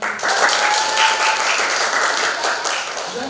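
A roomful of participants in a clinical pharmacy classroom session claps together, steady and loud throughout, a close, even patter of many hands with a few voices underneath.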